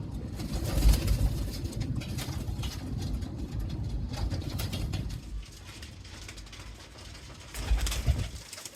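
Saffron golden pigeons coo steadily in a low, rumbling chorus close by, the murmuring swelling and easing over several seconds with no voices.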